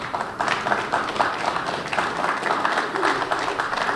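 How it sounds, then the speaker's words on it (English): Audience applause at a government ministry retreat, steady overlapping clapping from a crowd in a hall, moderately loud and sustained for several seconds without speech. "Do I get a round of applause for that?"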